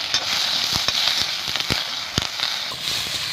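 Garlic and tomato sautéing in a pan with curry leaves for beetroot chutney, a steady close sizzle broken by sharp pops and crackles throughout, no voices.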